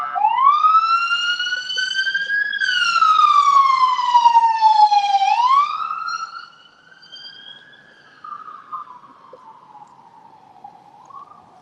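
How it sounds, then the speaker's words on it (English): Emergency vehicle sirens wail on a Chicago street, one loud sweeping siren rising and falling nearby before fading into a fainter, more distant siren. "We've got some sirens coming down."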